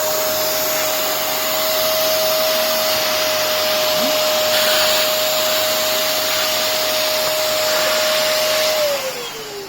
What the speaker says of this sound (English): the strength of the vacuum cleaner?